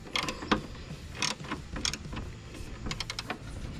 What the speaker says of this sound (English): we unscrew it on the top with a 13mm wrench